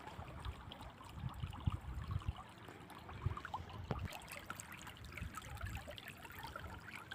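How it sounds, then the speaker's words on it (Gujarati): Irrigation water runs through a pigeon pea field in a soft, continuous trickle. The low, steady gurgle is faint and close, with no voices. "તુવેરમાં અત્યારે પાણી ચાલુ છે."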